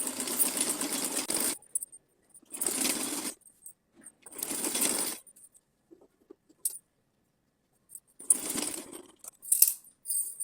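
A sewing machine stitches lace onto a long fabric strip for a small deity outfit, running in four separate bursts of whirring stitching with short pauses between them, close and fairly loud, with no talking.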